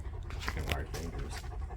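A dog pants in quick, rhythmic breaths close by outdoors at a food forest in Umatilla, Florida, under a voice.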